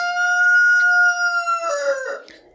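A rooster crows once, close and loud, a long sustained call that breaks into a rougher ending.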